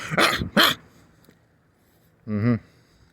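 A man imitates a dog with loud, close barks: two quick yelps, a pause, then one longer howling bark, with no other voices.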